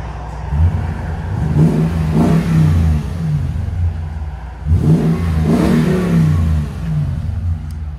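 A 2021 Toyota Tundra's 5.7L V8 with X-pipe and Borla Pro-XS exhaust rumbles at idle, then revs up twice in strong surges and falls back, loud and close.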